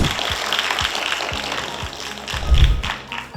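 An audience at a talk event claps to welcome a lecturer onto the stage, with scattered claps and a few heavier thumps in the middle, close and moderately loud, brief and uneven.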